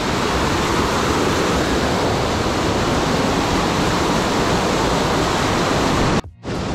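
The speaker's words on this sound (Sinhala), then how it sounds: "මේ හරිය මේ අවාරේ මේ පට්ටම වතුර සැරයි" A strong mountain stream rushes along the off-season trail to Sri Pada near Kuruwita, producing a loud, dense and unbroken roar close by that cuts off briefly near the end.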